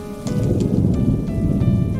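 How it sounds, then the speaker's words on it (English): Heavy rain pouring down on a roof, a loud continuous rushing wash with scattered drip-like accents and a low rumble underneath. "Kristen woke up to the sound of the rain pouring heavy over the roof"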